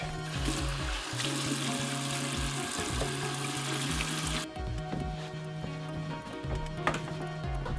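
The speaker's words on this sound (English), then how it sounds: "Let me wash my hands real quick." Tap water running into a sink while someone washes their hands. A steady splashing rush is heard up close, with a low repeating hum underneath, and the water cuts off partway through.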